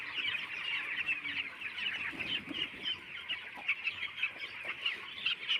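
Chickens on a poultry farm, one bird grossly bloated with trapped air, cluck continuously in a dense chattering flock, steady and fairly close with no talk.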